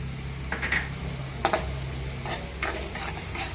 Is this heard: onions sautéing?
yes